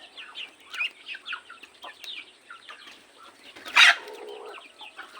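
Chickens on a farm give soft, scattered clucks and chirps nearby, with one sharper, louder squawk standing out midway.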